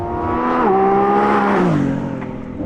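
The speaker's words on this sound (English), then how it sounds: "when you've got an engine as special as this, as vocal as this, you don't want to smother it in electricity" A Lamborghini Revuelto's V12 hybrid engine revs loud and close, its tone climbing through stepped gear changes, then easing off toward the end with a smooth, sustained howl.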